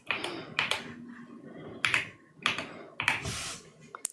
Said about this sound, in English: I actually really love this keyboard.